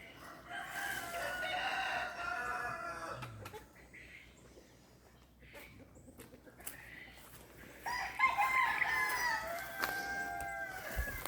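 Chickens on a homestead cluck and a rooster crows, with drawn-out crowing calls early and again near the end over a steady outdoor background.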